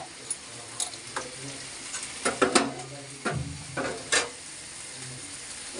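A spoon scrapes and clinks against a pot while dal with greens and turmeric is stirred, the strokes irregular and close over a soft bubbling simmer, with no talking.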